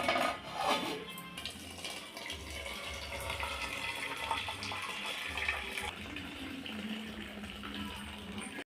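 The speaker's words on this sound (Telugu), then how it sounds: "ఇంకా నీళ్ళు వంపుకున్నాం కదండి" Water being poured off in a home kitchen while making tamarind soup, a steady splashing stream near the mic with faint clinks of a pot, running throughout without talk.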